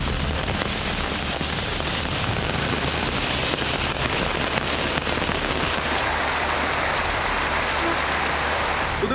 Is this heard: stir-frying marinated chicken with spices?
no